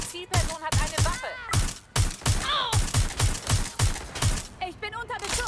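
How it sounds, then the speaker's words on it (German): Rapid gunfire in Watch Dogs: Legion, a steady stream of sharp, loud shots about three per second with voices talking over the shooting throughout. "Ich bin unter Beschuss."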